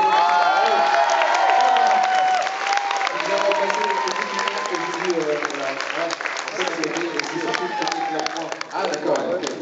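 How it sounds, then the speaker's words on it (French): A theatre audience at a live show breaks into loud, sustained applause with cheering and whoops, voices calling out through the clapping as it gradually thins. "On peut l'applaudir"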